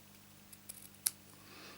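Scissors trimming ribbon on a handmade doily card, a few soft snips and then one sharp close cut in a quiet room.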